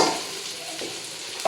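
Onions fry in a pan in a home kitchen, a loud, dense sizzle that carries steadily throughout, with a brief stirring scrape near the end and no talking.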